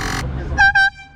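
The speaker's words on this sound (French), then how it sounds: "il y a la pompe qui gonfle le klaxon" An air horn on an electric scooter, inflated by a pump, gives two short loud tonal blasts up close after a brief burst of noise.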